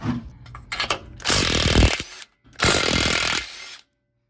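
A power tool or impact gun spinning a 13 mm deep socket to remove lower shock bolts under a pickup's control arm, in two loud whirring bursts of about a second each, preceded by some clanking and clicks.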